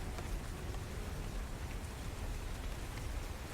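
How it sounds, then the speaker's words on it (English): Rain pounds on a stone parapet outside, a dense, constant hiss of drops that is steady and even throughout, muffled and moderately faint, with no voices. "You can still hear the pounding of the rain on the parapet outside."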